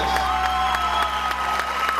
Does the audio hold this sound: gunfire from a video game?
no